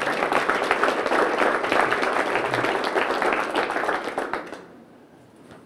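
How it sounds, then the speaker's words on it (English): A crowd at a horseshoeing show claps to welcome a farrier from an Oklahoma shoeing school, dense and lively applause holding steady for over four seconds, then dying away quickly into near quiet. "Let's give him a big round of applause."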